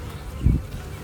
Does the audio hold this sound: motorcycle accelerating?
no